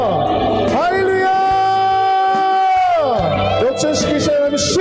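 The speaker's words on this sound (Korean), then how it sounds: "역전시키신 하나님께 영광의 박수를 드리겠습니다. 아멘. 박수와 함성." Church congregation at a thanksgiving service clapping and shouting in loud sustained applause, with whoops and a prolonged cry rising above the crowd noise throughout.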